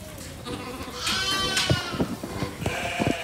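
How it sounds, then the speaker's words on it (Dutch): Sheep bleating nearby outdoors, a few wavering cries one after another, with soft rustling and light background noise between them. "Toch waren er schapen die graag een beschuitje met ons mee aten."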